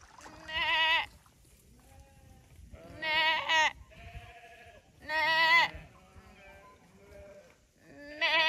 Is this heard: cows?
yes